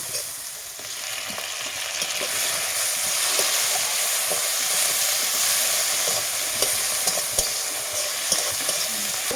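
Tomatoes fried with dry red chili paste in a pan for a potato and meat curry give a continuous, even sizzle, with faint scraping of stirring and no talk.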